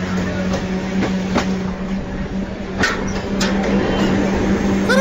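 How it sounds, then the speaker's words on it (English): Train wheels click over rail joints with a continuous rolling rumble and a steady low hum, heard close from aboard or beside a passing train in India. "You trying to stop the train or something?"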